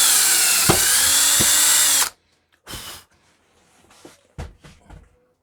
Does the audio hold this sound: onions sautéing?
no